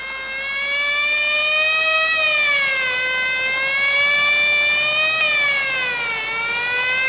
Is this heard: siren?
yes